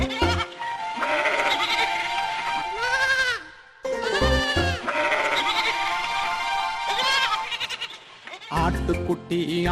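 A young goat bleats repeatedly in wavering, high cries over a Tamil folk nursery rhyme with music, the calls coming in clusters with a brief break partway through.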